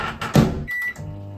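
A microwave oven hums steadily with a covering lid inside, a short louder clunk near the start, then a thin high tone and a low running drone close by, with no talk.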